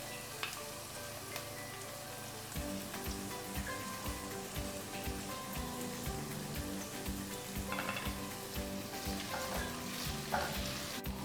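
Onions frying lightly in a pan with garlic and ginger, a steady close sizzle with stirring clatter and scraping throughout, no voices.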